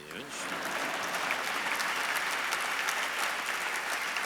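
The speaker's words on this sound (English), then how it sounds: "if you want to applause, please" Audience applause fills a hall after an award acceptance, steady dense clapping at full strength from the first moment and holding throughout, close and loud with no voices on top.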